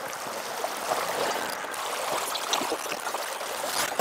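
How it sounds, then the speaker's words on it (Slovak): Two mountain brooks merging in the winter Piecky gorge of Slovenský raj make a continuous rushing, burbling flow, fairly close and steady with small splashes throughout. "Ale Tomáško, tu sa nám zlievajú dva potoky."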